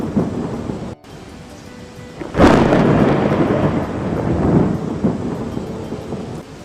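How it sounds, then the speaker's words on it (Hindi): A sudden loud thunderclap breaks over steady heavy rain, the rumble lingering and rolling on beneath the downpour. "तेज तूफान और बारिश शुरू हो गई।"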